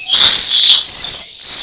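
Swiftlet call played inside a swiftlet house, a loud, continuous high-pitched chirping and twittering that fills the space without pause.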